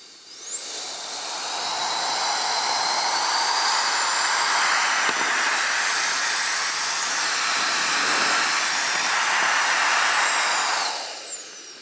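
A powerful electric blower roars at high speed, a steady loud rushing whoosh with a faint whine, starting abruptly and cutting off near the end.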